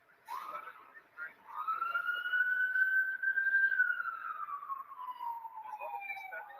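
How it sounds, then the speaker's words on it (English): A siren wails on a street outside, a single long rising and falling tone heard at a distance, fairly faint and steady with no talk over it. "I can hear the siren really loud."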